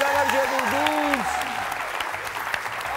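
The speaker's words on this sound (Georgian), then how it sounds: "აპლოდისმენტები გამარჯვებულ გუნდს" Studio audience applause for the winning team at the end of a TV game show. A voice speaks briefly over the start, then a dense patter of clapping carries on at an even level.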